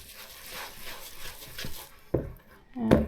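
A spoon works through a thick butter and cream batter for a keto Victoria sponge, with soft scraping strokes followed by a couple of sharper clinks against the bowl.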